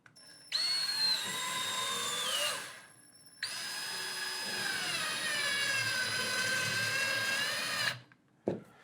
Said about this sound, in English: I like to use a drill because it's just faster